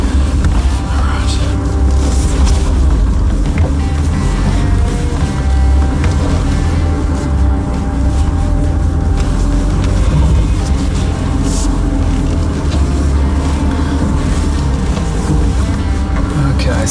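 Pickup truck with its diff lock engaged, crawling over an off-road obstacle, the engine and drivetrain giving a steady loud rumble throughout while people talk over it.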